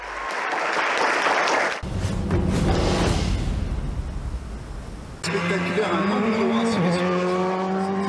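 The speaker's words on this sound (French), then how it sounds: "Des bolides lancés à toute vitesse lors du rallye de Saint-Joseph" Rally cars race at full speed during the Saint-Joseph rally, their loud engines roaring past amid crowd applause and a speaking voice, with a sharp change in the noise midway.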